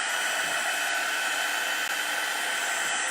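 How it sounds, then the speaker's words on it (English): A heat gun blows a constant, even hiss of hot air while melting embossing powder on a ceramic piece, steady and close throughout with no voices. "Then I have to heat emboss it."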